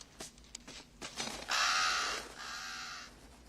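A crow, a pet bird in The Shawshank Redemption, gives two long harsh caws after a few faint clicks and rustles, close and fairly loud with no talking.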